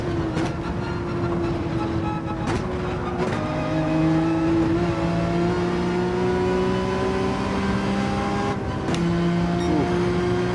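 A video game race car engine screams at high revs, over-revving, the pitch climbing and holding near the limiter with brief drops between shifts, loud and continuous.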